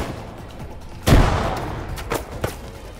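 Burst of machine gun fire in the military shooter ArmA 3, a loud close volley followed by a few scattered sharper shots trailing off, no voices.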